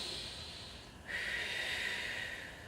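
A long, deep breath rushes close to the microphone during a Pilates workout, an airy hiss that dips briefly and then swells into a steady, drawn-out flow.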